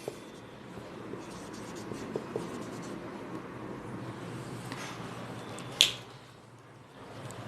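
Chalk or marker strokes on a classroom board during a geometry lesson: soft, scattered scratchy taps spread across several seconds, with one sharper click near the end.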